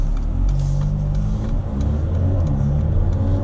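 A 2019 Mercedes A35 in comfort mode rounds a roundabout, its engine a steady low rumble with road noise, no sharp revving, heard from inside the cabin.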